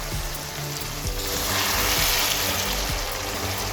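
Minced meat keema with crushed tomatoes frying in a pan on the stove, a continuous close hissing sizzle that swells slightly midway, with a few faint clinks of a spoon against the pan.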